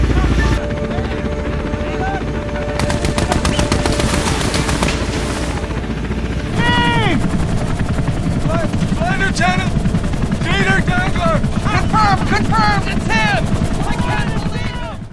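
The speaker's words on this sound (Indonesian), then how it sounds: "Hingga akhirnya helikopter penyelamat Amerika Serikat datang menjemput Dieter di sana." A US rescue helicopter flies over jungle, its steady rotor and engine drone loud and continuous throughout, joined by bursts of gunfire and chirping sounds in the second half.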